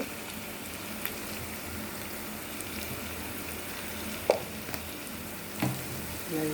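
Potatoes fry with spices in a pan, giving a dense, even sizzle that holds steady throughout, broken by a few sharp clinks and taps of stirring near the end.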